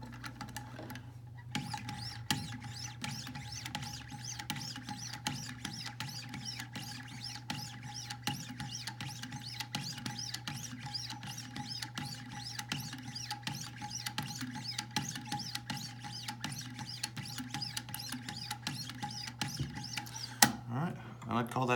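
Hinderer knife blade stroked on Wicked Edge 2 micron strops, a steady rhythmic rapid patter of soft scraping strokes, close and faint, over a constant low hum.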